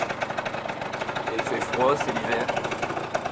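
A scooter engine idles with a steady mid-pitched putter on a winter morning in the streets of Fruges, running continuously beneath someone narrating in French.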